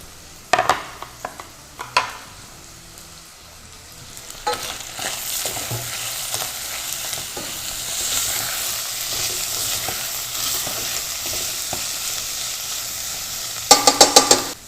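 Peppers, red bell pepper, garlic and onion frying in an iron skillet, a steady close sizzle swelling and holding, with a few sharp utensil knocks at the start and a clatter of stirring near the end.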